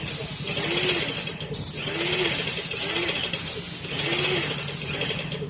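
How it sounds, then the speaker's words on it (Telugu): A paint spray gun hisses in long, loud bursts, pausing briefly three times, with a steady machine drone humming underneath. "ఈ పార్ట్ నుండి మనం స్ప్రే చేయాలి కదా."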